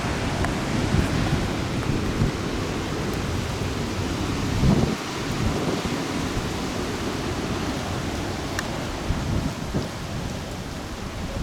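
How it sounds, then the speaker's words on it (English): Large ocean waves from a rising long-period swell break on a Hawaii shore, making a loud continuous roar of surf with rumbling surges, close and steady without any voices. "Wow, some nice waves coming in."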